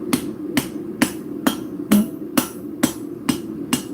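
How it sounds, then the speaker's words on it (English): A hammer's rounded face strikes the edge of a metal piece to texture it, giving about nine sharp, evenly spaced blows roughly twice a second, close and loud with no talk. "I'm going to use the rounded side of my hammer. I'm going to hit back towards me."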